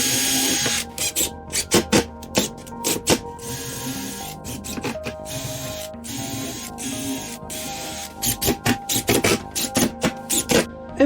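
A power screwdriver drives screws through a wooden crossbar into a shutter, with repeated short whirring bursts in clusters separated by pauses, close and fairly loud.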